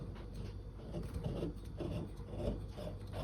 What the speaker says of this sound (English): I screw the bottom